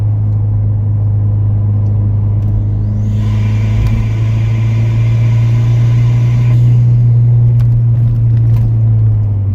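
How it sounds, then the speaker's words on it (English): A Ford Fiesta ST fitted with a 2J-racing intake accelerates lightly at low speed, its engine a loud, steady drone heard from inside the car with a brief brighter intake whoosh partway through. "we'll drop a gear and do some light acceleration"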